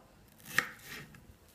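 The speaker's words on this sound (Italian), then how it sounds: "Adesso la sto tagliando, sto facendo delle fette abbastanza, spero, sottili e passabili" A knife cuts a thin slice through an onion on a cutting board, giving one crisp, close chop with a faint scrape after it in a quiet room.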